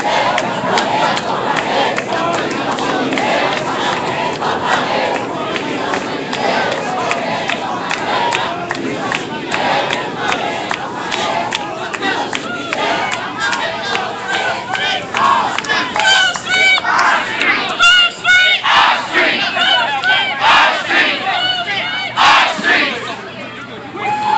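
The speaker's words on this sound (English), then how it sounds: "The crowd has grown considerably since I started streaming." A large protest crowd in Ferguson shouts and chants continuously, loud and dense, with horns and individual yells rising out of the roar.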